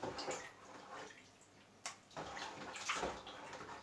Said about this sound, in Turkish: Tekrar kaynattıktan sonra suyunu dökeceğim. O kanlı suyunu bir akıtacağım.